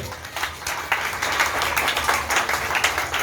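A church congregation claps and applauds together, a dense, lively burst of many hands that swells slightly and keeps going steadily throughout.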